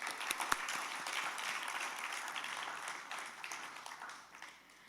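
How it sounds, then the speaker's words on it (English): Warm audience applause at a Bharatanatyam dance debut recital, a full room clapping steadily for several seconds with a few sharp nearby claps, then gradually dying down. "Please give them all a big round of applause."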